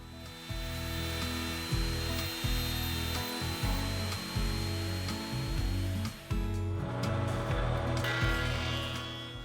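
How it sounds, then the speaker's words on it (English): A router fitted with a dovetail bit cuts wooden tenons for a mortise and tenon frame, a loud whining motor that roars in repeated bursts as the bit bites into the wood, dipping briefly between passes. "I'm using a dovetail bit in the router to cut the tenons."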